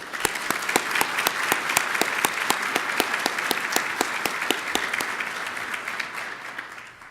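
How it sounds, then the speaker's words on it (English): Conference audience applauding at an annual conference opening session, steady sustained clapping from a sizeable crowd, loud and even throughout with crisp individual claps standing out, gradually thinning toward the end. "Please join me in giving them a round of applause."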